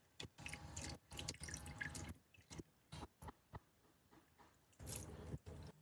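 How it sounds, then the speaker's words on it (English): Shrimp heads and shells draining in a sieve drip water in scattered, irregular drops and soft wet splats, faint and close, with quiet pauses between bursts. "Then remove them and let them drain in a sieve."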